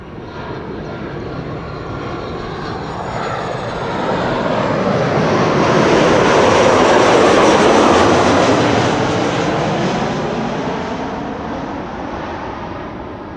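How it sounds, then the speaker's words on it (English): A Tarom airliner arriving from Bucharest comes in over Amsterdam Schiphol, its jet roar swelling from a distant rumble to a loud, close peak overhead before fading slightly, with no voices. "Tarom flight 361 arriving from Bucharest in Romania."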